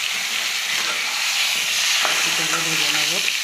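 Cut pumpkin pieces tipped into hot oil left from frying hilsa fish, with nigella seeds tempering: loud, steady sizzling and stirring close up, with a few short squeaky tonal scrapes near the end.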